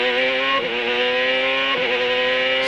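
A CART race car at Laguna Seca shifting down two gears, a loud steady engine note with two quick pitch drops close together.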